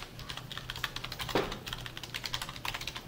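Rapid keystrokes on a computer keyboard while coding PHP, a steady patter of clicks with one louder, sharper key press near the middle, like Enter being struck, all close and fairly quiet.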